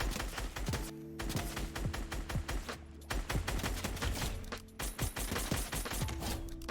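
Rapid video game gunfire in a Fortnite aim training map, dense bursts of sharp shots fired at bots, with music-like tonal layers running underneath.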